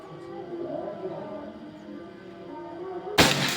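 A single sharp shot from a Predator Pajero Gen 6 air rifle cracks out at the end after a few seconds of low outdoor background noise.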